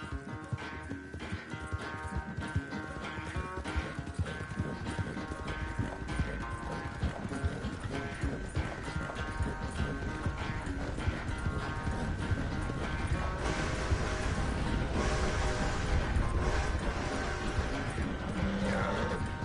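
Horse hooves clip-clop steadily at a trot in the video game Red Dead Redemption 2, a continuous rhythmic patter under faint ambient game sound, growing slightly louder toward the end.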